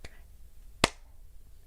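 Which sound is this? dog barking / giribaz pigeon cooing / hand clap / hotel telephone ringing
hand clap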